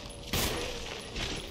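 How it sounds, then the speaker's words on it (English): Gunfire in the video game Resident Evil, a short burst of loud shots, one sharp blast followed by a second, softer report close together. "I can't see what I'm shooting"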